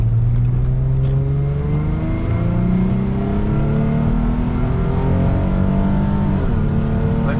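Lexus IS250 engine revving hard on a downshift, a loud, close, droning in-car roar with rising and stepping pitch sweeps from the drivetrain throughout.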